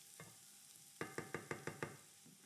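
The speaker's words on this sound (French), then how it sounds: "je mélange bien pour que le riz s'imprègne bien d'huile d'olive et qu'il attrape un côté nacré" Risotto rice is stirred in olive oil in a pan, a quick series of about six evenly spaced scraping strokes over a faint sizzle, close and fairly quiet, with no one speaking.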